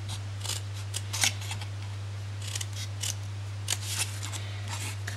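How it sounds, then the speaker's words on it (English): Paper snipped with scissors while making a gift box, a string of quick, crisp cuts and notches close by, with a steady low hum running underneath throughout. "Cut off there, and notch out flaps."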